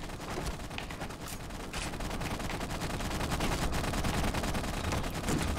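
Weapon fire from the Halo CE video game, with a rocket launcher among the shots, forms a dense, continuous stream of loud bursts and blasts running through the whole stretch without pause.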